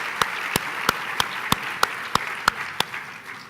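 Applause at a tourism meeting for a blue bicycles initiative comes as sparse, crisp individual claps, about ten evenly spaced sharp hits over a quiet room background.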